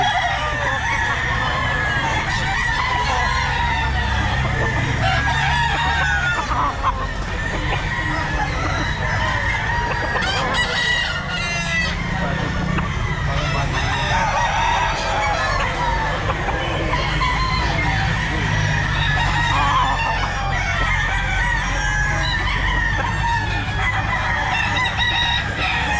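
Bullstag roosters at the Grotto pet market crow over and over in a dense, continuous chorus, near and far calls overlapping with clucks and market bustle throughout.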